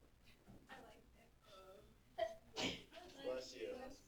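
A person sneezes during a math tutoring session, a sharp burst cutting through nearby talking voices, with quieter speech continuing before and after.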